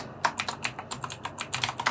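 Fingers tap out a login password on a computer keyboard, a quick run of close, crisp keystrokes in an uneven rhythm with no talking.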